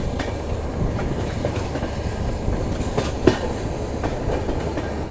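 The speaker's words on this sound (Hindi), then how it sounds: "Because this is India's longest Humsafar express." Indian Railways Humsafar Express, the country's longest Humsafar route, heard from inside a 3rd AC coach: a steady, loud rumble of wheels and carriage with one sharp clack midway and no voices.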